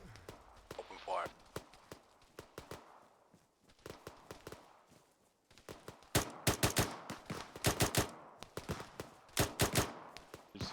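Rifle and machine-gun fire in Arma 3 during a squad engagement, with sharp cracks in rapid bursts that grow denser and louder in the second half, over clattering movement and radio-style chatter.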